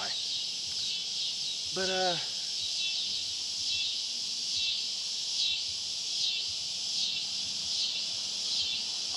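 Cicadas chorus in an outdoor summer setting, a continuous high buzzing drone that swells and fades in slow repeating pulses, with a brief spoken word near the start.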